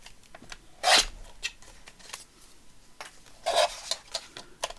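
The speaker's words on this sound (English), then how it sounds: "Oh, now I've cut it again. I caught it with my trimmer." A paper trimmer cutting paper, heard as two distinct rasping slices, one early and one later, each followed by lighter scraping and handling sounds, close and alone, no talking.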